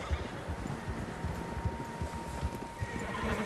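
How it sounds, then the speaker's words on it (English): Several horses in the Red Dead Redemption 2 game, a whinny carrying over a steady clip-clop of hooves and low rustling, moderately close, with no talking. "Horses, quite a few of them."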